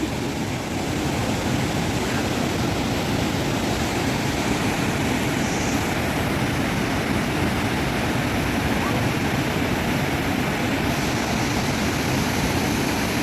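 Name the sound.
Gallu waterfall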